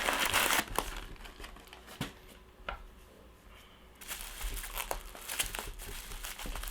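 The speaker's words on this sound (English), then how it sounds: "we just got some packing paper there" Packing paper from an iPhone 2G box crumples and crinkles in bursts of close, dry rustling, loudest at the start and again near the end, with quieter handling in between.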